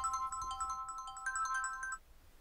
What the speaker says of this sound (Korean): 충격적인 전화 한 통이 걸려옵니다.